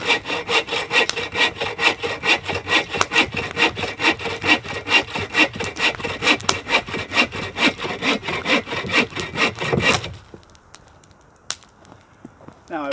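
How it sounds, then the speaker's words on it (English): Firewood being hand-sawn outdoors in snow, a steady back-and-forth rasp of a saw biting through wood in rapid even strokes for about ten seconds, then stopping and leaving near silence. "I'm going to start cutting some firewood"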